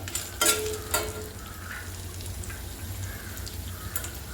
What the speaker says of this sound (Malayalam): പാനിൽ എണ്ണ ഒഴിച്ച് ഈ അടയിട്ട് നമ്മൾ നന്നായിട്ട് വറുത്തെടുക്കണം